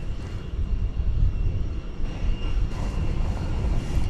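Volaris Airbus A321 jet on Flight 391 to Mexico City at DFW Airport on a Friday night, a steady low engine rumble carrying on at moderate distance with slight swells and no talk over it.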